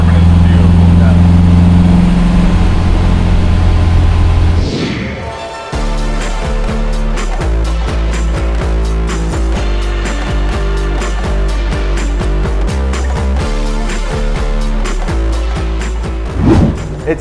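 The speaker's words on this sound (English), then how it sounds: "You can hear those carburetors opening up. That's right. That intake sound." A restored MG MGA 1500 Coupe engine roars loudly with a deep carburetor intake rumble for about five seconds. The sound then gives way to a rhythmic, music-like bed with a faint mechanical undertone.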